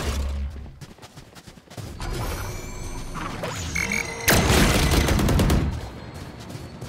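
Gunfire in the tactical shooter Valorant crackles in scattered shots and short bursts, then a dense, loud volley erupts for over a second before fading into lighter pops and clatter.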